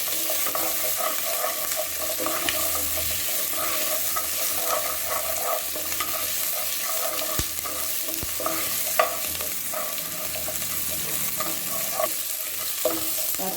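Tomatoes with green chillies being sautéed in a pan for chilli-pinched sambar; constant close sizzling and frying with frequent spoon-stirring scrapes and clicks, and no voices.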